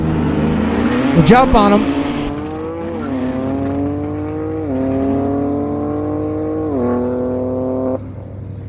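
Engine roar at a no-prep drag strip with a 2024 BMW M4 Competition and a 1968 Chevy Camaro racing, revs climbing through gear shifts over a loud crowd burst and a brief shout.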